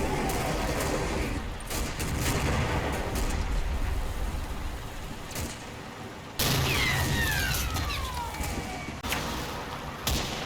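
Continuous battle gunfire from active guns in a Combat Mission World War II game, dense bursts and crackling shots over a steady rumble, with a louder flurry midway and a whistling sweep near the end.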